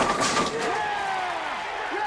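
A bowling ball crashes into the pins at the men's intercollegiate team championships, giving one loud clattering impact followed by a scattering rattle in a busy, echoing alley with crowd noise.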